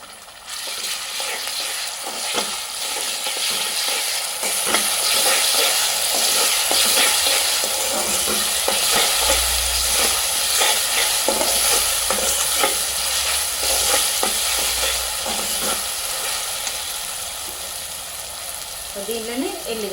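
Mushroom curry fries with ginger garlic paste, a steady loud sizzle with frequent scraping stirs of a spoon in the pan throughout.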